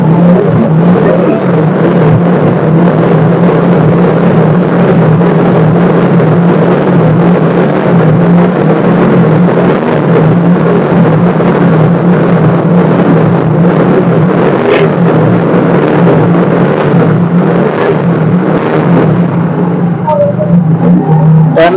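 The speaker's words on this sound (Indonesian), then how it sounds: "Dan motor ini bisa nyala tanpa menggunakan aki." A Yamaha Mio J scooter's engine idles steadily up close while running with its battery disconnected, a loud, even motor drone that holds without revving.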